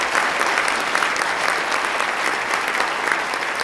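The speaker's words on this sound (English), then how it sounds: "Let's give a big round of applause to County Executive Mark Poloncarz" A crowd at a governor's press announcement in Buffalo applauds loudly and continuously, a dense, even wash of many hands clapping held for several seconds.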